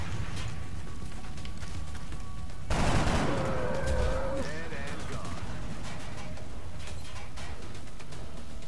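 Gunfire from the video game XCOM: Enemy Unknown during a civilian-rescue mission: a sudden, loud burst of shots erupts partway through and trails off with echoing tails, over steady game background noise.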